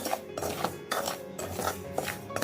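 Semolina is dry-roasted in a pan over a medium flame, giving a steady gritty scraping and rasping as it is stirred, with soft rhythmic strokes of the spoon against the pan and no talk.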